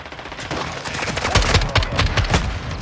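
Rapid bursts of automatic gunfire from a weapon in Modern Warfare 2, loud and close, in quick repeated volleys with no talk over them.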